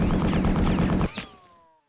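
Enemy mech in MechWarrior 3 firing a rapid burst of dummy rounds, a dense rattling barrage that cuts off abruptly after about a second, followed by a decaying boom and ringing tail.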